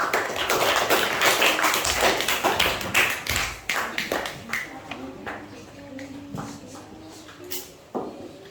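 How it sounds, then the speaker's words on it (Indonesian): A classroom group claps for a team of students, starting as quick, ragged clapping that thins into a few scattered claps, with people talking throughout. "tepuk tangan untuk kelompok Filipina"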